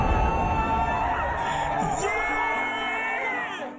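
A large crowd cheers Speed on during a race, with loud whoops, yells and excited voices blending into a continuous roar that eases slightly toward the end.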